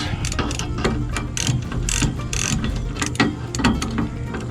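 A ratchet wrench tightens the spring bolts on a trailer axle, giving repeated loud, close clicking bursts in uneven strokes over a steady low background.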